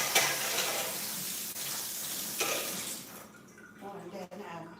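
Tap water runs in a kitchen sink while hands are washed, a steady hissing splash that stops after about three seconds, then quieter clatter and a voice talking.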